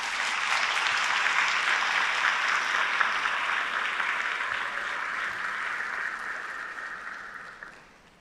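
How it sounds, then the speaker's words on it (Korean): Hall audience applauds an award recipient at a university's 140th anniversary ceremony, an even, full round of clapping that holds steady for several seconds and then fades out. "박수로 모시겠습니다."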